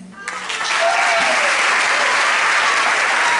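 Loud concert-hall applause for a band presenting its CD at a live music show; the clapping swells quickly after a brief opening sound and holds as a thick, sustained ovation.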